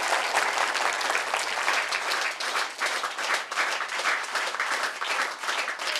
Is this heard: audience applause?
yes